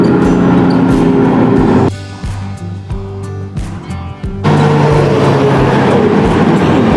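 Loud, close roar of a multi-trailer road train truck hauling 200 tonnes of iron ore on an outback highway, a heavy rumbling pass with rattling trailers that briefly dips before surging again.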